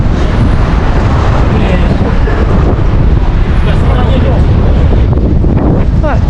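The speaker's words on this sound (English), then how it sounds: "because it's really windy" Strong wind on the Blackpool seafront buffets the microphone in loud, continuous roaring gusts, with faint voices mixed in beneath the rumble.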